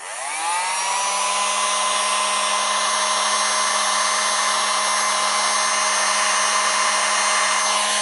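A heat gun running on low heat blows a steady, loud, unbroken whir close by as it is used to melt polystyrene, with a constant tone and no speech throughout.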